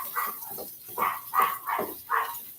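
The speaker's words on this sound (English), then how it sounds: "he's just standing there barking and for no reason" Bandit the dog barking indoors, five or six short, close barks in an uneven series, some doubled, fairly loud over quiet surroundings.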